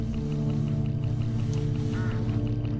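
Crows in a hitchhiker mystery video game give repeated harsh honking calls in a steady rhythm over a constant low engine-like drone.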